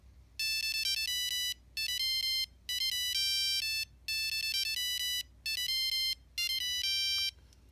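A Nokia 3410 mobile phone plays its monophonic ringtone of a cover song: bright, beeping melodic phrases in six bursts separated by short gaps, clear and alone over faint background hiss.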